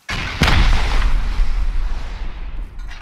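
A rocket slams into an armored wall in the survival game Rust, setting off a loud, close explosion with a sharp opening crack and a deep rumbling boom that slowly decays over about three seconds.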